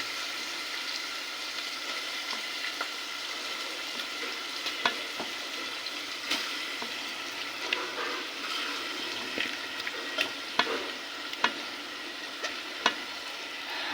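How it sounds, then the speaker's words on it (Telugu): Fish pieces going into ginger garlic paste in a pan for a fish curry: a continuous close frying hiss with scattered sharp crackles and light utensil clicks, no talking. "చేప ముక్కలు వేసేద్దాం."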